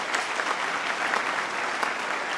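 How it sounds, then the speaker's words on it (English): A brief, steady burst of audience applause for a teacher at a high school Year 12 graduation ceremony, dense and even throughout. "a round of applause for Miss Candiago"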